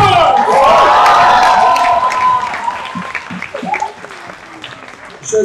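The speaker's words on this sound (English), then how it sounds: "give them a round of" A concert audience at a student music showcase for Year Two Music Performance and Production breaks into loud applause with whistles and cheers, then the clapping gradually thins and fades while voices carry on.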